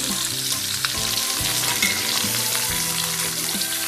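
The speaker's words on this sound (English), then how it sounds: "when the oil is hot enough that I will pop into the green chilies and the onions into it" Green chilies and onions fry in hot oil, giving a steady, loud sizzle with crackling throughout and no voices.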